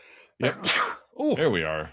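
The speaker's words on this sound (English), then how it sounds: "I've got a sneeze brewing right now." One person lets out a single sharp, close sneeze, and a voice then speaks briefly.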